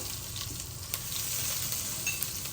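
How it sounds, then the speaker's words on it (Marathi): Mustard seeds and cumin sizzling in hot oil, tempering for a Gujarati-style handvo; a steady close hiss with scattered small pops and crackles. "आता याला फोडणीला थोडंसं राई जिरं टाकायचं"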